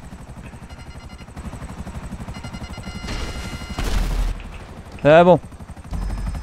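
Two helicopters in Grand Theft Auto Online make a steady rhythmic rotor chop throughout, with bursts of gunfire and a brief rising whine, and someone speaks briefly over it.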